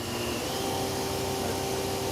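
A 2009 Fadal VMC6030HT box-way CNC vertical machining center spindle spins at high RPM, producing a steady, loud, even whir with a faint sustained whine running through it.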